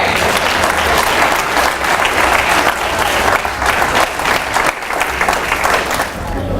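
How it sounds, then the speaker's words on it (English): A church congregation breaks into loud, sustained applause, dense clapping that fills the space steadily for several seconds with voices mixed in. "you ought to clap for that."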